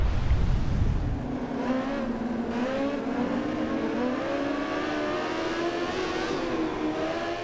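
A MotoGP 15 racing motorcycle engine screams steadily at high revs in a video game, loud and continuous with rising and falling pitch as another bike passes at the Misano circuit.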